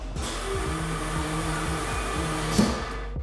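A vacuum packing machine hums steadily as it seals a tray of peeled shrimp in a seafood quality training lab, a loud continuous motor drone with a brief click near the end.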